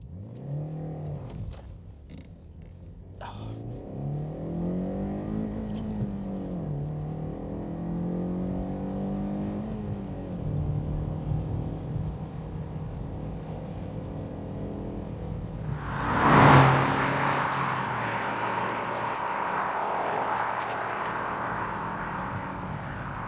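Honda CR-Z with a VTEC engine revving hard up through the gears, rising harmonic sweeps repeating as each gear is stretched toward the limiter around 6,200 RPM, loud and steady throughout, with a brief sharp burst near the end.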